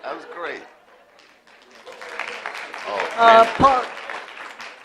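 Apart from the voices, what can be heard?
audience applause at a school board meeting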